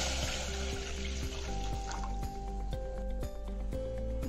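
Water pours steadily into a pot of cut, washed potatoes being readied for boiling in a homemade Odia desi aloo bhaja. The pour is close and continuous, with a filling tone that rises in pitch as the pot fills.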